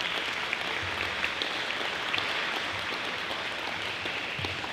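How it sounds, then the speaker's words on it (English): Steady audience applause for Ms. Falcone at a community talk on fentanyl, a dense wash of clapping holding at an even level throughout, with no voices over it. "So let's give Ms. Falcone a big round of applause"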